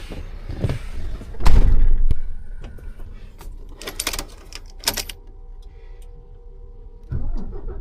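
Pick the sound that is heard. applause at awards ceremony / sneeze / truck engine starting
truck engine starting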